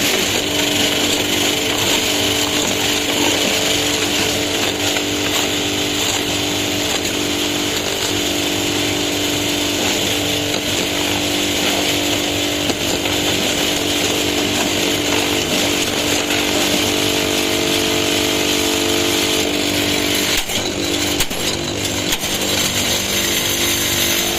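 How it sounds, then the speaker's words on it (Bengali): A concrete block making machine runs with a loud, steady engine drone and mechanical rattle that continues without a break for over twenty seconds, close by, with no talking. "এটা হচ্ছে ব্লগ বানানোর মেশিন"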